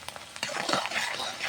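Onion, garlic and green chili tossed into hot oil in a pan for a goat curry, a sudden sizzling burst with scraping stirring sounds, close and moderately loud.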